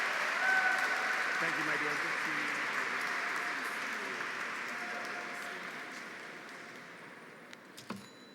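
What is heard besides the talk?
audience applause for a performance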